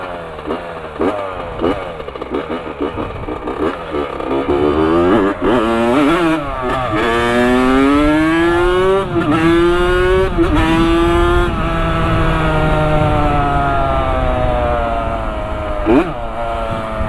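A specially built Honda CR 80 two-stroke trail motorcycle revs loudly up close, its engine note climbing and falling through repeated sharp throttle blips and sustained high-pitched pulls.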